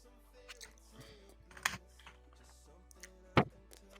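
Sparse clacks from a Logitech mechanical keyboard, irregular keystrokes with a couple of louder sharp hits, faint and close against a low hum.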